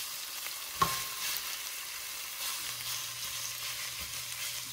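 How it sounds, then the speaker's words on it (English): Ground beef frying in oil in a pan while a spoon breaks it into small pieces, a steady close sizzle with one sharp scrape of the spoon and faint occasional stirring. "this one really helps me get the ground beef into itty bitty pieces"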